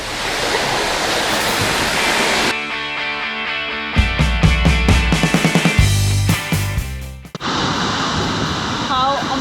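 A waterfall on Iceland's south coast, heard from the path behind the falling water, gives a loud, steady roaring rush that a person's talking briefly overrides midway before the roar returns.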